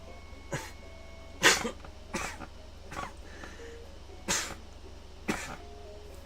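Several harsh coughs and throat-clearing bursts come at irregular intervals over a quiet room, loud and close, with short pauses between them and no other sound.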